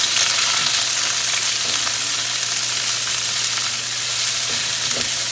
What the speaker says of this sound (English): So I'm gonna put the peppers in. I'm heating up the pan.